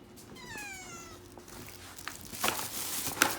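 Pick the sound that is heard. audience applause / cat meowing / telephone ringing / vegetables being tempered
cat meowing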